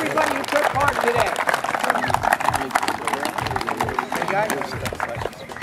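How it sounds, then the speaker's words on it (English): A crowd at an outdoor quarterback challenge claps in a steady, dense burst, heard close and mixed with people talking. "let's give a round of applause for everybody who took part today"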